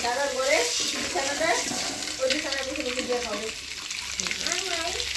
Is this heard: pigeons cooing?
no